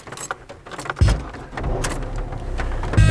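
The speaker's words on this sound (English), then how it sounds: "Just starting up the old engine" An old car's engine is cranked and catches, a key jingle and click first, then the starter and a low rumbling idle that settles in close by with no one speaking.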